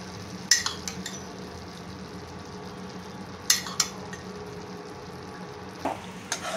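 Homemade cream being stirred into palak paneer in a pan, a soft low sizzle under a few sharp clinks of a spoon against metal, spaced apart in quiet kitchen surroundings.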